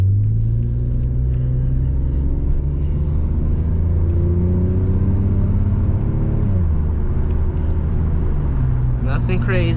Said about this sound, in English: it's just a regular eBay exhaust